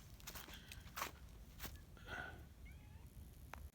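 A cat meows a few times near a truck it was hiding under, outdoors on a damp, misty day; the calls are short and moderately close, mixed with footsteps and rustling.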